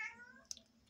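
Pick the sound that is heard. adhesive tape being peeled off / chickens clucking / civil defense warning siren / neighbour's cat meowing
neighbour's cat meowing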